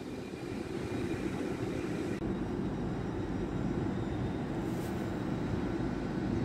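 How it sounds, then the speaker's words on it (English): An Elizabeth line train bound for Abbey Wood at Reading station gives a steady, loud rumbling roar that holds throughout, with a broadband wash of rail and engine noise and no speech. "There's the Elizabeth line to Abbey Wood."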